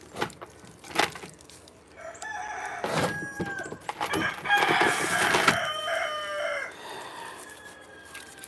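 Chickens cluck and a rooster crows close by while the flock is being moved on a trailer, with several overlapping calls and one loud drawn-out crow in the middle.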